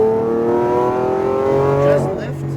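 Lamborghini Aventador engine pulling under throttle on a race track, a loud rising harmonic engine note building for about two seconds before easing off, with an instructor's voice over it.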